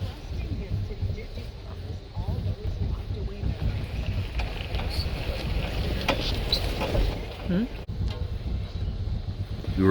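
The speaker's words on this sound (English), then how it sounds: "Front row seats on the ferry ride across Lake Champlain." A ferry crosses Lake Champlain in fine weather, heard from a front-row spot: a steady low engine rumble and water wash with wind buffeting the microphone, and faint voices and small knocks scattered on top.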